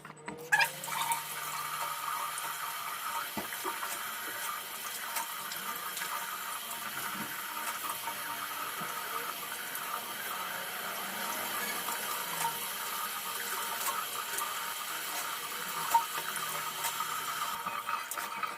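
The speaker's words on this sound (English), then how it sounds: "I just finished washing." Water from a sink tap runs steadily and continuously during face washing, a close, even hiss with occasional small splashes and no speech.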